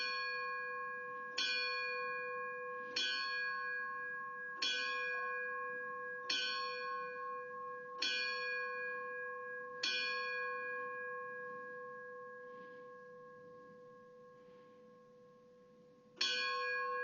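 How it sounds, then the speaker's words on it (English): A fire department memorial bell rings signal 7-1 at a funeral service, seven evenly spaced clear strikes, each fading slowly, then after a long pause one more strike. "signal 7-1 will be rung, which will represent Captain Lawson's completion of his assignment on earth"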